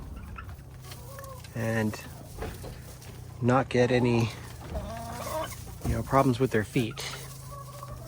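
Chickens in a newly built chicken shed cluck and murmur softly on and off, close by, beneath a person talking.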